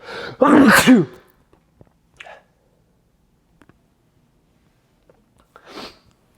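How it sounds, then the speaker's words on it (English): A single loud, close sneeze bursts out near the start, followed by faint sniffs and small mouth clicks in an otherwise quiet room. "quick sneeze break"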